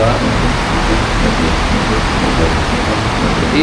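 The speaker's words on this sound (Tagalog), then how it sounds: "kung gaano kalakas ang ulan" Heavy rain pours down in a dense, continuous roar of splashing water, loud and close, with no pauses.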